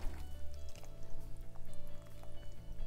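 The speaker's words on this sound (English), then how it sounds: "Pour the juice over." Pineapple juice poured over a large ham in an Instant Pot, a close, continuous liquid splash and trickle with wet squishy drips over a low hum.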